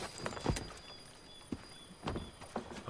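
Horse hooves clopping in Assassin's Creed 3 Remastered, a few scattered, fairly quiet hoof strikes and thuds over soft ambient background, with no clear whinny.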